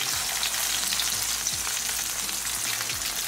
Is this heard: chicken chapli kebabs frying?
yes